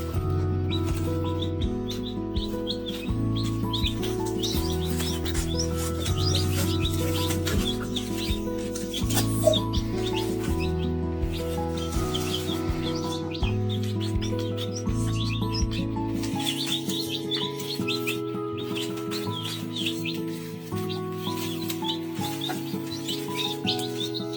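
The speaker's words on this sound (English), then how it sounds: "If you can hear chicks in the background" Baby chicks chirp and peep faintly throughout, underneath steady music with a prominent bassline.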